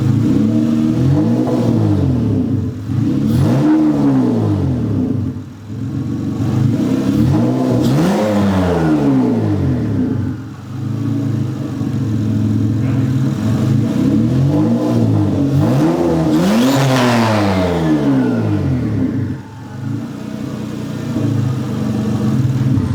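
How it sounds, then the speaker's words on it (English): A turbocharged Honda engine on a custom fabricated turbo kit runs and revs repeatedly, loud and close, with rising and falling sweeps of throttle over a steady rumble and no talk. "Engine ran great, didn't overheat."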